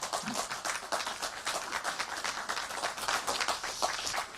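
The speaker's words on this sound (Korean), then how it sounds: "공감하시면 박수 한번 쳐주시죠" A lecture audience claps in response to a speaker discussing the mad cow disease protests, a lively, continuous patter of many hands at moderate loudness with no talk over it.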